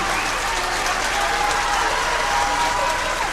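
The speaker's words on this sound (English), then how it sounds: "Carter Skogsberg will check off to a round of applause" Crowd at a high school basketball regional semifinal applauds as a player checks out of the game, a sustained, loud wash of clapping and cheering throughout.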